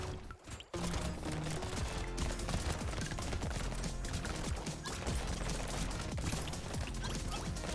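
Many turrets firing at once in the Brotato video game, a dense continuous barrage of rapid shots and impacts over busy game sound, loud and unbroken after a brief quieter start.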